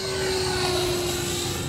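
E-flite F-15 electric ducted-fan RC jet flying at about quarter throttle, a steady whining hum with a sustained tonal drone, constant and moderately distant.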